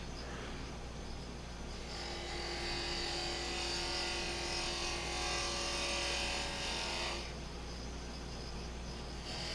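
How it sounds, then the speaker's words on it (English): A wood lathe spins a whiskey smoker blank as a spindle gouge trues it up, giving a steady continuous machine hum and a broad scraping hiss that swells through the middle and eases near the end, with no talking. "So I'm using the spindle gouge,"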